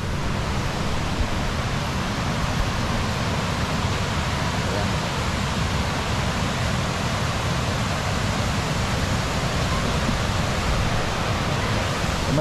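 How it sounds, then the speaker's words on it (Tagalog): Malatap waterfall in the Philippines roars as a loud, steady rush of falling water, unbroken and without voices. "Pakita ko sa inyo yung waterfalls dito."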